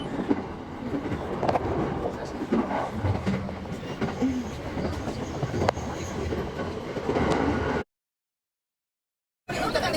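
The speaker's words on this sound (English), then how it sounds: "we're on the Tokyo train." Inside a moving Tokyo train, a steady rumble of rolling wheels carries faint rhythmic rail clacks and brief squeals, loud and continuous, cut by a sudden dropout of silence near the end before the noise resumes.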